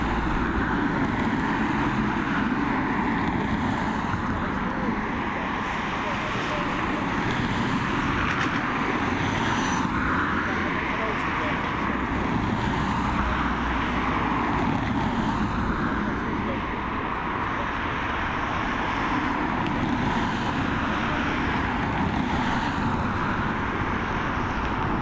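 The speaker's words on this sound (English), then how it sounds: "It's a Boeing 737 operated by Ryanair." A Ryanair Boeing 737 jet takes off at Dublin Airport, its engines giving a steady, loud broadband roar that holds through the whole stretch, with a commentator talking over it.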